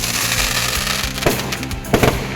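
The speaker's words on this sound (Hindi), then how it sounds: "ये अलग अलग तरीके की आतिशबाजी आकाश में इन्होंने जलाई है।" Fireworks at the Dewa Sharif Mela give two sharp cracks about a second apart over a loud, continuous rumbling din.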